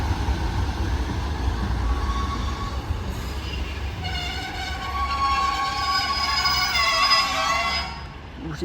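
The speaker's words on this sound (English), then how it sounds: "See this train goes when it departs." A Class 150 diesel train pulls away from Dewsbury station toward Leeds with a deep engine rumble and rising, whining tones that climb in pitch as it accelerates.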